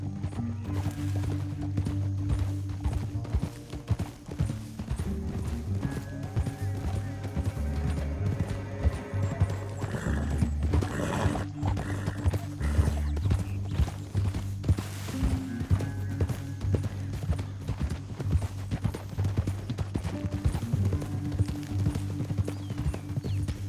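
Horses in Red Dead Redemption 2 gallop in a steady clip-clop of hooves over a sustained music bed, with an occasional whinny and a swell of louder hoofbeats partway through.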